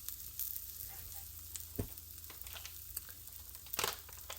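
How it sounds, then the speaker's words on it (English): Minced garlic fries in oil to make garlic oil, giving a steady, close hiss of sizzling with small crackles and occasional louder pops and stirring clatters throughout, with no voices. "And I added minced garlic. Yeah, to make the garlic oil for the flavor."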